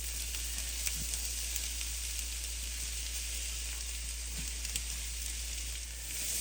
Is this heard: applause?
no